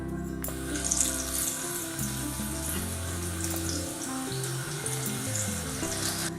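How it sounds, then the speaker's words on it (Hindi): Potato fries are dropped into preheated hot oil and set off a strong, continuous hissing sizzle that holds steady, with a low hum and tonal background music running underneath. "अब मैं इसमें फ्राइज डालती हूँ।"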